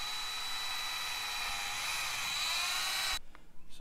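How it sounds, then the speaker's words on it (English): A high-pitched drill whines steadily at close range for about three seconds, boring a hole for an LED during a controller install on a Harley-Davidson Rushmore motorcycle, then cuts off abruptly, leaving quiet handling sounds. "we're going to go ahead and drill a hole for the LED"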